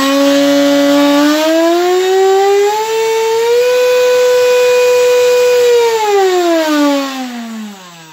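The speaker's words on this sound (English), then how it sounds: "So as I throttle up, I've got to hold the plane or it's actually going to try and fly." A radio-controlled F-15 model jet, held down on a bench indoors, screams up as the throttle opens. Its loud, steady whine climbs in pitch, holds high, then winds back down near the end.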